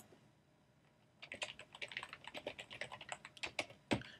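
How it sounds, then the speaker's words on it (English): Someone types a message on a computer keyboard, a quick irregular run of close, crisp key clicks that starts after about a second of quiet and ends with one louder tap. "and type in my message"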